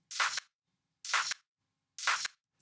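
A layered clap built in an Ableton drum rack from several pitch-shifted samples, struck three times at an even one-second spacing, each hit bright and noisy with a short tail, heard alone.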